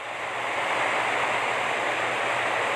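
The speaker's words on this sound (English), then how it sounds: "I gotta sort of shout, guys, because the rain is very strong" Very strong rain falls in a continuous, loud wash of hissing noise, a steady, even downpour roaring close by without breaks or speech.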